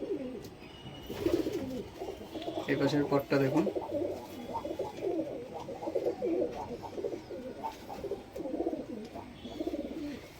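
Chini Mada pigeons cooing in a loft among other breeds, repeated low rolling coos close by, with someone talking over them.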